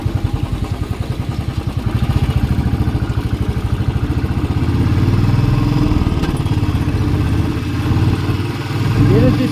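A motorcycle engine chugs with a rapid, rough pulse during a road ride, loud and close, rising and easing as the bike slows over speed breakers.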